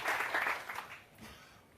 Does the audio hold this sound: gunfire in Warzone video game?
no